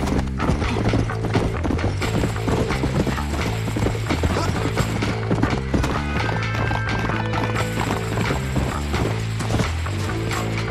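Horse hooves clip-clop in the Red Dead Redemption video game, a steady trotting rhythm over layered game music and ambience, with no talking.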